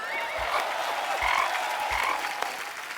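A frog-croaking sound effect plays during a comedy stage show as three low, throaty croaks at an even pace, close and distinct over a soft background wash.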